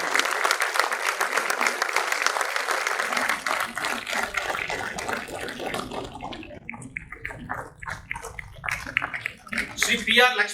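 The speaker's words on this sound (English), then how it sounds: "Please give a big round of applause to the prize winners." Audience applause for prize winners at a National Safety Day ceremony, a loud burst of clapping that thins into scattered claps and background voices, with a few louder claps near the end.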